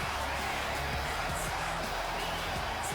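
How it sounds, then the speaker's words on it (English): Arena crowd in a WWE 2K wrestling game in Houston, a dense, constant wash of cheering and crowd roar filling the background, loud and unbroken for the whole moment. "And listen to this crowd in Houston."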